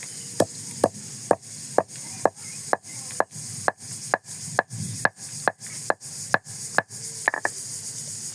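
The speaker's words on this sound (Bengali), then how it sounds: "এখানে 2টো বড় ধরনের এলাচ দেখতে পাচ্ছেন, এই 2টো থেতো করে নেব আমি" Repeated sharp pounding strikes as two large cardamom pods are crushed for a chickpea curry in a home kitchen, about sixteen evenly spaced knocks at a steady rhythm, close and clear with no talk.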